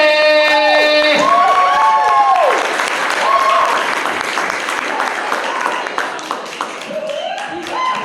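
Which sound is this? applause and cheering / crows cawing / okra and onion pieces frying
applause and cheering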